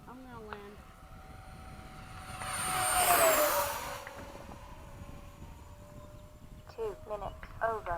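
A Freewing 70mm F-35 RC electric ducted-fan jet passes overhead on its landing approach, a whooshing roar that swells to a peak near the middle and fades away, with radio chatter and talk before and after.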